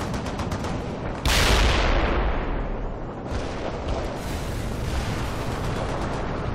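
Gunfire and heavy weapons from the World in Conflict: Soviet Assault real-time strategy game, a loud burst near 1.3 seconds followed by sustained rumbling battle noise and scattered shots throughout.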